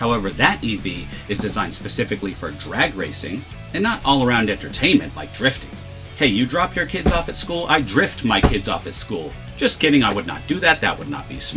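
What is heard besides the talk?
No everyday noises stand out.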